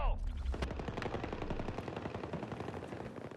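Rapid automatic gunfire in a Spanish-language shooter video game, dense continuous bursts of shots aimed at the player, loud and sustained throughout with no talk over it.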